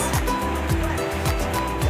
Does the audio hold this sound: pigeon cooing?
no